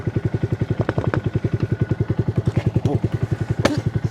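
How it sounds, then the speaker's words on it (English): A Honda Grom motorcycle engine runs at idle after a jump start, putting out a close, even, rapid thumping pulse with occasional light mechanical clatter. "that's how you jump a bike. It's working."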